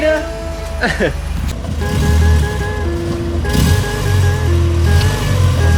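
A Nissan 240SX with a freshly rebuilt KA24E engine idles steadily on its own, a continuous low engine hum with tonal whine, while people talk nearby.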